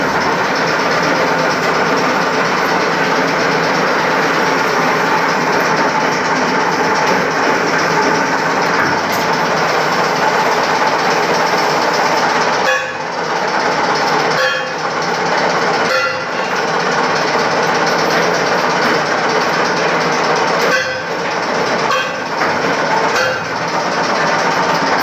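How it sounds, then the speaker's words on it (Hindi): A spot welding machine in a cage factory joins wire mesh held in a die, giving a loud continuous industrial roar that fills the space, with a few brief dips and sharp bursts in the second half. "ये बाकायदा पंचिंग हो रही है, ऐसे हम बोलते हैं स्पॉट वेल्डिंग।"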